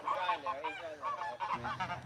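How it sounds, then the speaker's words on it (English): A goose on a farm honks repeatedly in a quick, fairly faint series of nasal calls at evening chore time, with no talk over it. "So this is the goose that moved in."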